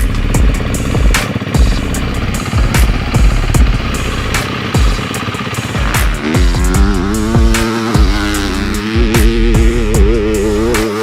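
A 2024 Yamaha YZ250F dirt bike engine revving loudly and continuously, rising and falling in pitch with sharp bursts of throttle, close and unaccompanied by speech.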